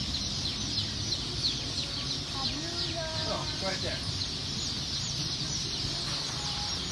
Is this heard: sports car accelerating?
no